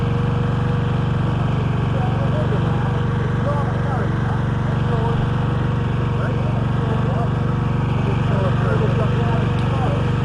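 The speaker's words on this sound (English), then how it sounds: "Although the engine was not running at all smoothly, it was decided to go ahead with the test" A pre-war Austin Seven engine running roughly on a booked test circuit during a 1977–78 record attempt: a continuous, loud, buzzing mechanical drone that holds steady throughout, with speech heard over it.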